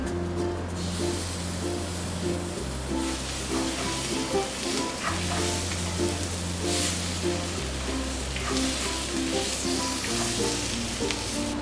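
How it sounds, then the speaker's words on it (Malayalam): Fish roe frying with grated coconut and chilli powder in a pan, a steady soft sizzle with stirring scrapes, set against a low droning hum that shifts pitch in even steps, no talking. "നന്നായിട്ട് ഇളക്കി കൊടുക്കാം തേങ്ങ ചേർത്ത് കൊടുക്കാം ഇനി ഇതിലേക്ക് ഫിഷ് എഗ് ഇട്ട് കൊടുക്കാം"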